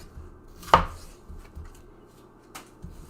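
A kitchen knife hand-slicing a pepper into thin julienne strips on a cutting board, one sharp chop followed by a few soft, quiet cuts and taps, close and alone without talk.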